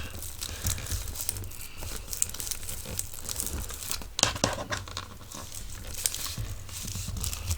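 Paper crinkles and crumples steadily as it is folded over in sections for a junk journal holder, a close, continuous rustle with a few sharper crackles.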